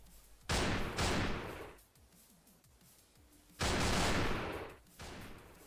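Gunfire in the Thrive Island Online battle royale game, two pairs of loud bursts of shots separated by a quiet stretch.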